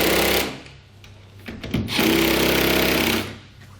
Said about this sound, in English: And then we'll tighten them all down.